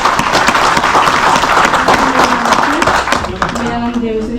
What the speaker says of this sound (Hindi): तो एक बार जोरदार ताली जरूर चाहूंगा